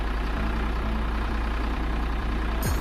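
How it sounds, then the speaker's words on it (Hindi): Eicher 557 tractor engine running close by with a loud, steady low rumble and no clear rise in revs, then a short click near the end; no talking. "थोड़ा हाई रेस करके थोड़ा स्पीड में इसको कटिंग करके देखेंगे अभी"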